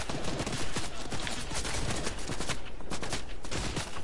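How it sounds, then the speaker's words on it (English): Video game gunfire with sniper shots amid dense, continuous loud bursts of rapid shooting and crackling. "Getting sniped at, okay."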